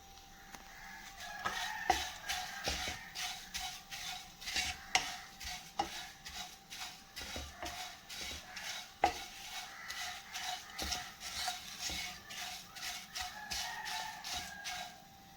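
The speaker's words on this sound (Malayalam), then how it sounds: "ഈ അവലിടാം ഇതൊന്ന് ഇനി ഫ്രൈ ആവുന്നത് വരെ ഒന്ന് ഇളക്കിയെടുക്കണം" Flattened rice (aval) stirred in a hot cheenachatti pan, with steady scraping and clinking of a spatula against the metal in an irregular rhythm, close and moderately loud, a faint sizzle underneath and no talking.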